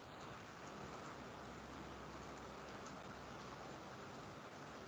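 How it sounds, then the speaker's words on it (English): Steady, even rain hisses continuously at low volume, a dense wash of drops with no voices. "It's raining."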